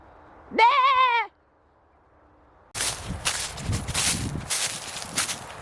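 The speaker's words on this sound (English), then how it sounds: "All the sheep are staring at me." A sheep in a field gives one loud, close bleat with a wavering tone, followed by a pause and then rustling, crunching footsteps through leaves.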